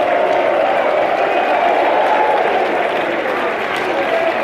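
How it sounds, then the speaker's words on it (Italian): Football fans in the stands applaud the players after the match, a broad, steady wash of clapping and crowd noise from a distance, continuous and fairly loud throughout. "vanno a raccogliere l'applauso dei tifosi che li hanno incoraggiati per tutta la gara"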